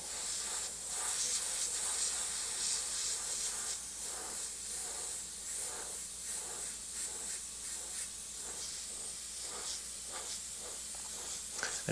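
A steady, close airbrush hiss sprays paint continuously over a mask on paper, with slight pulsing as the stream is adjusted, no voices, just the airy spray throughout.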